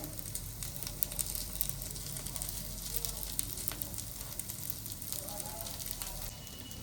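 Aloo tikki, potato patties, frying in oil in a pan, turned to crisp the second side, giving a steady, close sizzle with faint crackles throughout and no talk.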